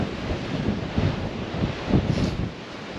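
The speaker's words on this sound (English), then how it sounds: "So I'm on the Welsh Coastal Path and it's a very blustery day." Strong blustery wind buffets the microphone on a Welsh coastal path near Nash Point, a continuous low roaring rumble with gusty thumps and surges, and no voices.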